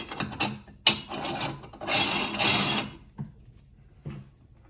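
A locking bolt is threaded onto a VEVOR 1100-watt meat grinder, giving close metallic scraping, ratcheting clicks and rubbing in irregular bursts.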